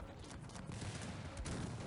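Faint, muffled bursts of heavy gunfire boom in quick succession, with a deep rumble underneath, like distant cannon volleys in a battle in the strategy game Cossacks.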